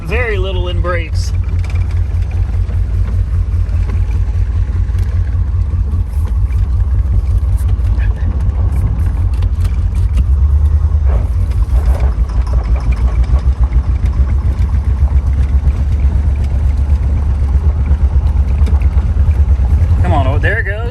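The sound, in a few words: 1985 Chevy Corvette driving and shifting into second gear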